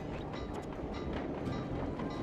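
A train rumbles along the rails in the video game Sly 2 Band of Thieves, giving a continuous dense roar with a faint rhythmic clatter, steady and close, without a pause.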